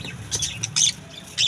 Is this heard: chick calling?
yes